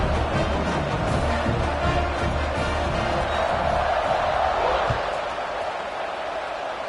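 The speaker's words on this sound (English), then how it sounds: "this crowd is buzzing after that last score." A football stadium crowd roars and buzzes continuously after a score, a dense, loud wash of cheering voices filling the space with a few sharp thuds, before fading slightly toward the end.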